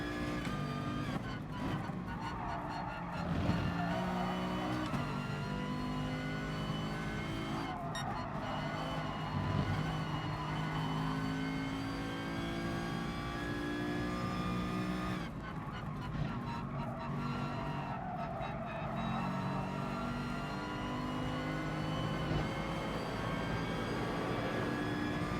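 A Mercedes race car in GT Sport drives a circuit, its engine droning steadily throughout with rising and falling pitch as it accelerates and shifts, with no talk over it.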